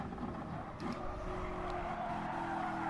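A race car engine in an online racing video game drones steadily and continuously, with a faint tire squeal and no talk over it.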